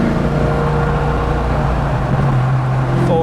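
A 1990 Mustang Saleen pulls through the gears with a steady, droning engine note from inside the car, loud and continuous, with a brief rise near the end.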